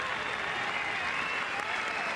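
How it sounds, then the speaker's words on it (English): Stadium crowd at an under-20 rugby match between Argentina and France applauds a player being substituted, a steady, even roar of distant clapping with no break. "The applause you hear is because De La Vega Mendia has been replaced"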